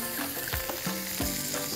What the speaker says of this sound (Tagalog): sear lang natin yan.